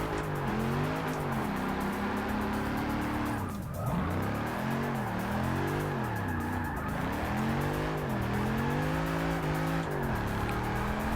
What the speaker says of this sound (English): it can do a solid burnout